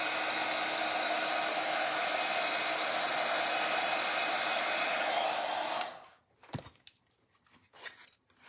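A heat tool blows hot air onto a craft foil transfer for a wooden birdhouse, a loud steady rushing hiss that runs for about six seconds and then cuts off, followed by a few faint handling clicks.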